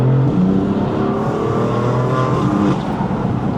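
A 600-horsepower BMW M4 engine pulls hard under acceleration, loud and close, its tone rising then easing near the end.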